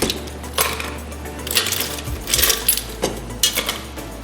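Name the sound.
ice rattling in a cocktail shaking glass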